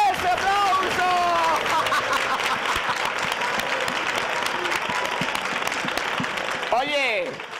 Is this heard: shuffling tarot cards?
no